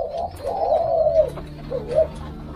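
Spotted doves coo from a breeding cage housing young birds of Vietnamese, Thai and Malaysian strains, a low rolling coo sounding twice, close and fairly loud with no voices over it.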